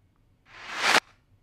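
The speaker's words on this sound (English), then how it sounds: "This is the reverse clap." Reversed clap sample from an 808-style drum kit, its reverb removed. A single backwards hiss swells for about half a second and cuts off abruptly, close and dry, with no talk.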